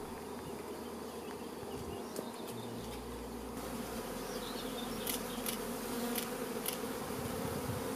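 Honey bees buzz steadily around their wooden beehives, a dense, continuous drone close to the hive, with no voices over it.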